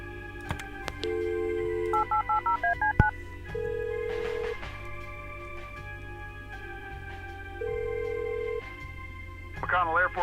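A telephone keypad in the video game Kathy Rain beeps through a run of DTMF dialing tones, several quick presses and a few longer held tones, fairly loud and clear with faint background hum.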